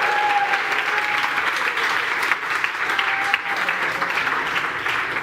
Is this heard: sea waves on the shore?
no